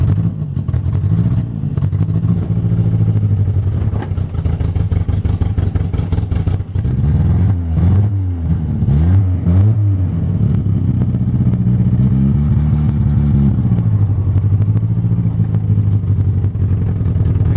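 A revived junkyard Triumph Spitfire engine runs close by with a busy, clattery idle, then revs up and down in several rising and falling bursts before settling back to a rough idle, with no talking.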